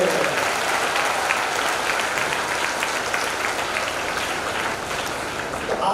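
A live audience at a Hindi spiritual discourse on the Hanuman Chalisa claps steadily, dense sustained applause filling the whole stretch at even loudness.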